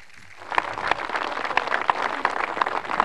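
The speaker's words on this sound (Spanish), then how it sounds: "Un aplauso a la distancia para nuestro presidente." A crowd applauds at a public event in Cochabamba handing over a housing project, the steady clapping starting after a brief pause and continuing moderately loud and somewhat distant, with no speech heard.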